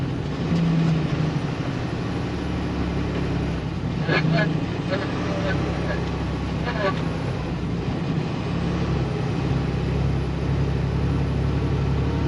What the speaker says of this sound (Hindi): देखो गियर कैसे डाउन जाते हैं।